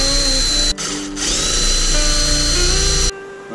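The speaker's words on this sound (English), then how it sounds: "just going to take out the mount as our guide and run the drill right on through" A power drill whines loudly up close, its motor pitch shifting as it bites through a mount on a 2021 Can-Am Renegade X-MR 1000R ATV, briefly dipping mid-run before cutting off.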